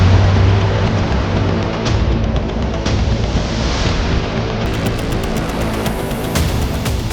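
Cars pushing through a rain-flooded street in Gurugram, a steady loud wash of water spray and engine rumble with no break, close by and continuous.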